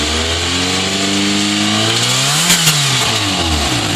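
A Toyota-style GT-S car engine with a leaking aftermarket header revs loud and close, a raspy rising and falling drone that climbs to a peak and then eases back down, with no talking.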